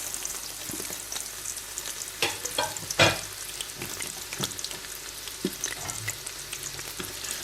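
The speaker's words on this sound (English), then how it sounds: "So now that the oil is hot, I'm going to add my chopped onion." Chopped onion frying in hot groundnut oil for Nigerian fried rice, a steady close sizzle with scattered spits and stirring scrapes, one sharper crackle burst midway, no talking.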